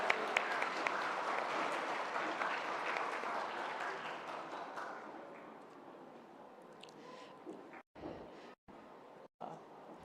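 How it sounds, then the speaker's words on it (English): Sustained round of applause from the audience at an AI project pitching competition for green sustainability, honoring the judges; dense clapping holds steady for several seconds, then thins and breaks off into sporadic claps near the end. "So can everyone give a round of applause again for our hardworking judges?"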